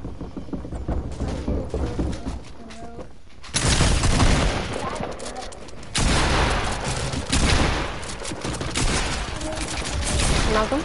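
Video game gunfire with dense bursts of rapid shots and booming thuds coming in waves, loud and fairly close, with brief quieter gaps between the volleys.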